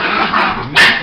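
Two dogs play fighting, one white, give a sharp close bark near the end after a stretch of growling, scuffling noise.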